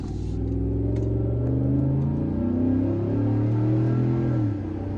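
A Chevy Silverado's 6.2L V8 with an old, worn Flowmaster muffler revs up into a loud, deep rumble, holds there for several seconds, then drops back toward idle.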